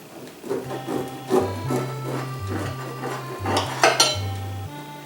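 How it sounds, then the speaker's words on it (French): A knife saws through bread, cutting it into two pieces. Rhythmic rasping strokes with crusty crackles repeat across the board, and a steady tonal drone runs underneath. "je coupe mon pain en deux morceaux"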